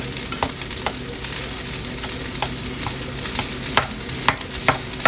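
Leftover rice with shrimp being stirred and broken up in a hot pan, making a continuous sizzle under repeated scraping and tapping strokes of a spatula, close and fairly loud.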